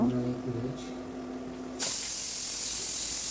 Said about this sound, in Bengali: এবার দিয়ে দিচ্ছি অনেকটা পরিমাণে পেঁয়াজ কুচি কাঁচামরিচ কুচি এবং রসুন কুচি এবার এগুলো ভালোভাবে বাদামি করে ভেজে নেব